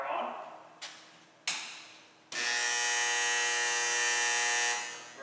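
Buzzer on a Baxter 30 pan revolving tray oven, model OV850G, a loud continuous electric buzz sounding for a couple of seconds after a few clicks and knocks, then cutting off.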